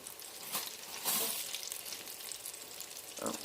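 Cheesy tots frying in a home deep fryer, a steady crackling sizzle of hot oil with brief louder bursts as the tots are moved around, heard close with no talking.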